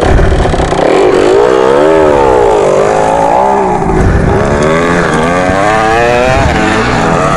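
A Yamaha TDR motorcycle revs hard on a gravel pit track, its loud close engine note rising and falling in long sweeping pitch swings throughout, with no talk over it.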